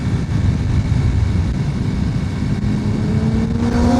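A 2026 Honda C125 Super Cub motorcycle engine drones steadily and close up while riding, with heavy wind rumble, and its pitch climbs as it revs up near the end.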